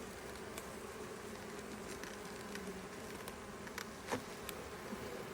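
Honey bees buzzing steadily around an open hive during an inspection, a dense continuous hum with occasional louder individual bees passing close.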